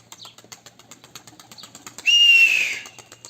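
A pigeon flaps its wings and lands on a rooftop, giving a sudden loud burst of wingbeats that fades over about a second, after faint rhythmic ticking and a thin whistling tone.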